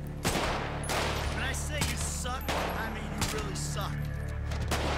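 Army soldiers fire guns at an overrun base in GTA V's zombie mode, producing sustained, overlapping volleys of shots over a low engine drone while a person talks.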